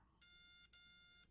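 A micro:bit motion alarm with an ultrasonic sensor sounds a loud, steady electronic beeping tone, two long sustained pulses with brief gaps between them, close to the microphone and with no talk.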